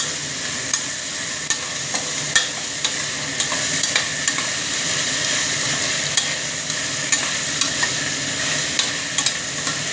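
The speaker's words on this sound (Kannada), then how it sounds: "ಟೊಮೊಟೊನು ಚೆನ್ನಾಗಿ ಬೇಯಬೇಕು ಎಣ್ಣೆಲಿ" Tomatoes sizzle and fry in hot oil, a steady dense crackle with small scattered pops and occasional stirring, close and continuous with no talking.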